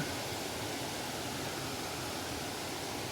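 Steady broadband rush of water from Chet Sao Noi waterfall in Saraburi, a constant hiss-like roar filling the short stretch without voices.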